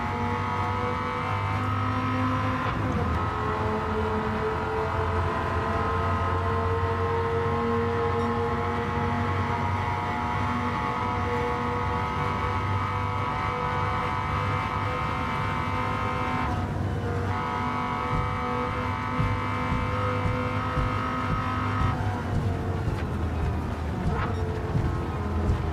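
Five- and ten-cylinder racing car engines in a racing video game drone continuously with steady harmonic tones, shifting pitch as the engines rise and drop through gear changes around the track.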